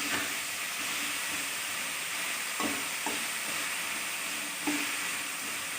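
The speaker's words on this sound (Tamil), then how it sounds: "நல்லா இது வதங்கட்டும்" Green turkey berries frying in a pan for a spicy curry, a steady hissing sizzle with a few brief stirring clatters, fairly close and without speech.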